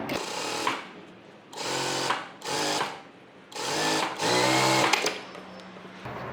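A sewing machine runs in five separate bursts while stitching a blouse seam, each a loud, close, steady motor whir with brief pauses between them and no talk over the stitching.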